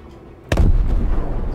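A Freelancer's ship weapons fire on a Vanduul fighter in Star Citizen: one sharp, loud blast with a deep booming tail that rumbles on for about a second, heard alone without speech.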